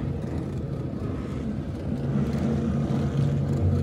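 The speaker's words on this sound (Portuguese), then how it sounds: "Olha os motores roncando aqui" Engines roar at an outdoor trail event in the Serra do Exu area as a low, rumbling motor drone that swells louder toward the end, with no speech.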